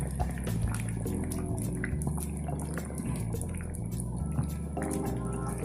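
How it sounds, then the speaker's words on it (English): Soft, irregular bubbling and dripping pops from a pot of chicken pumpkin soup simmering, quiet and close, with a faint steady background hum. "Just listen those bubbling sound"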